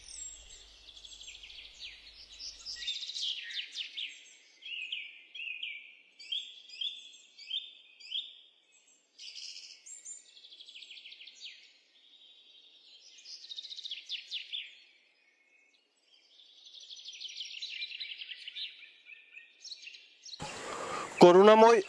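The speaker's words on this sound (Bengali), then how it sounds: "কান পাতলেই শোনা যায় পাখির ডাক।" Several birds chirp and warble in repeated bursts against a quiet background, some calls near and others fainter, and a voice briefly cuts in at the very end.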